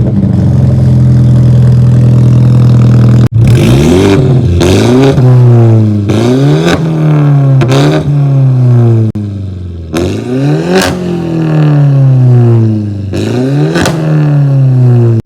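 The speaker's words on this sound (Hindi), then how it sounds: "ये पूरी गाड़ी डी कैट तो है ही, तो ये स्ट्रेट पाइप है पूरा जो एग्जॉस्ट" BMW with a stage 2 tune, de-catted straight-pipe exhaust and valves held permanently open, revved hard about six times after a steady idle, each blip rising sharply and dropping back, loud and close.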